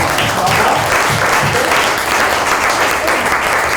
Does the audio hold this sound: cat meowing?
no